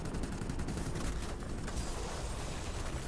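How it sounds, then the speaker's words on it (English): Dense, continuous rapid-fire 30mm cannon bursts in World of Warplanes roar without pause, loud and close, forming a steady wall of gunfire. "30mm cannons are not my friend."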